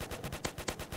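Rapid gunshots from a gun fired at zombies in a Roblox zombie game, a steady fast burst of about nine sharp shots, fairly faint and alone.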